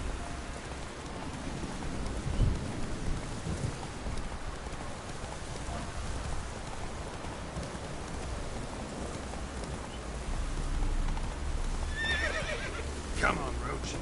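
Geralt's horse Roach gallops in The Witcher 3, a steady drumming of hooves under falling rain, with a horse whinny partway through and a voice speaking over the ride.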